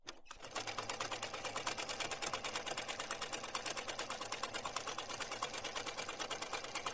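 A tailor's sewing machine stitches cloth in a fast, continuous mechanical whir with rapid even needle beats, starting abruptly and running steadily up close with no talk.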